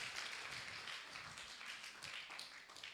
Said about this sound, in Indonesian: Berikan tepuk tangan yang meriah buat Tuhan Yesus.